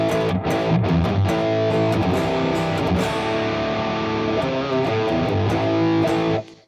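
Electric guitar played through a Fractal FM9 modeler without a Rat distortion pedal, a sustained distorted chordal passage that rings loud and steady for several seconds before cutting off abruptly, with no talking.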